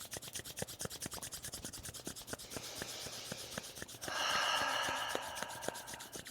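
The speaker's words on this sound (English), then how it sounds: "Start to rub the palms together." Palms rub together during a breathing exercise, a soft, close swishing friction that swells louder for a few seconds over a quiet background with faint regular ticks.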